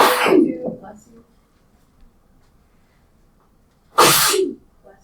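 Sneeze in a classroom, one sharp loud burst at the start and a second equally abrupt sneeze near the end, with quiet room noise between.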